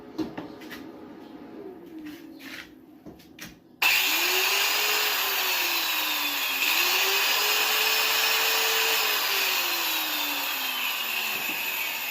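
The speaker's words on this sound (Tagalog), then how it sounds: "Ginagamitan ko siya ng grinder" A solar-powered grinder used for construction work starts abruptly a few seconds in, then runs loud and steady with a whining, wavering tone until the end, after a quieter stretch of faint background noise.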